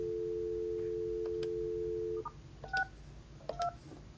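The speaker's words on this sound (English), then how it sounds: "You can also dial *62 from your phone to access the voicemail." A steady phone dial tone cuts off, then several short, bright keypad beeps sound as *62 is dialed to reach voicemail, close and clean with no speech.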